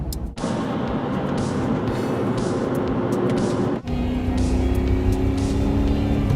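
A 1985 Lamborghini Jalpa engine roars continuously at high revs, loud and close, with a brief dip as a gear shifts before the rising drone resumes.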